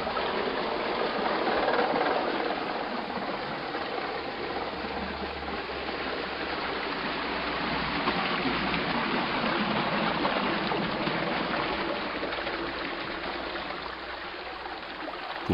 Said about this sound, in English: When the gates are open, the water pours in.